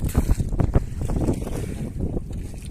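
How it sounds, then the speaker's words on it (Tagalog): Strong gusty monsoon wind buffets the microphone on a fishing trip at sea off Talisay, Cebu, roaring and rumbling low, with occasional thumps. "Medyo malakas ang hangin ngayon."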